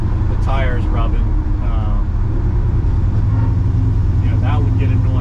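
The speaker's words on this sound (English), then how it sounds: "Even on a simple road like this, you can hear the tires rubbing." A 1955 Chevy truck driving on an ordinary road, its tires rubbing, heard as a steady, loud low rumble of road and engine noise from inside the cab while someone talks over it throughout.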